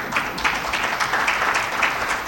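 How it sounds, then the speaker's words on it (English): At the closing session of a conference, the audience breaks into applause, a sustained, fairly loud wash of many hands clapping with a slightly uneven pulse. "I hope you applaud on that one."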